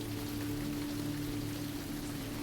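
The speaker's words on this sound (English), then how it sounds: "As the rain patters on the lighthouse" Steady rain patters on a coastal lighthouse beside a lake, a continuous soft hiss of drops with a low sustained hum underneath, even and unbroken throughout.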